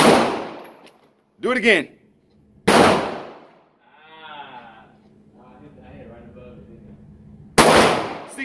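Gunshots at a shooting range, three or four loud sharp close cracks spaced a second or more apart, with an instructor's voice speaking between shots.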